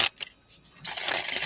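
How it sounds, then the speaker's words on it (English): A deck of tarot cards being shuffled: a few brief riffling flicks, then a sustained close, crisp flutter of cards with no talk. "I'm going to reshuffle this"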